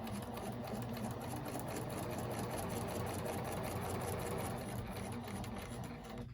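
A sewing machine stitches quilt pieces in one continuous run, its rapid, even mechanical whir close and steady for several seconds before it stops.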